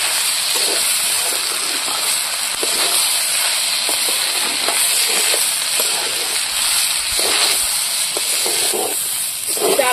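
Rice fries lightly in a pan for Ilish pulao, giving a steady, even hiss and sizzle throughout, broken by faint scrapes from stirring.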